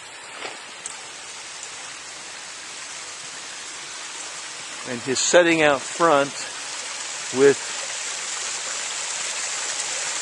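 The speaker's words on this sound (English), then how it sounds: "a water feature that actually sounds like a real waterfall" A garden water feature splashes steadily like a small waterfall, a constant close hiss of falling water, while someone speaks briefly over it midway through.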